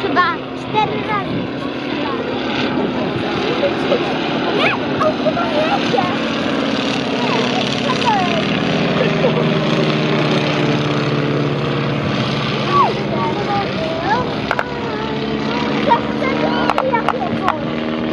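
Small propeller airplane performing tight manoeuvres at an air show in Krosno, its engine droning steadily and loudly throughout amid crowd noise, with people talking nearby.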